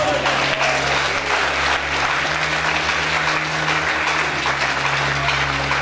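Sustained applause from a large church congregation fills the room, steady and loud throughout, with a low hum of music or organ underneath.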